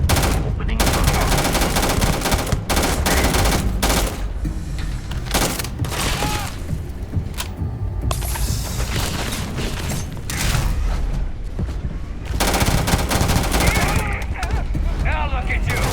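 Dense, continuous gunfire from a firefight in the video game Starfield, with rapid automatic bursts, heavy booms and mechanical clatter running loud and close throughout, and a voice briefly heard beneath the shooting.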